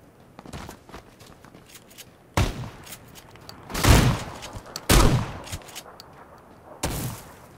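Gunfire from a player shooting in PUBG, a few sharp shots and several louder bursts spread out with pauses between, fairly close, with faint footsteps in the quieter stretches.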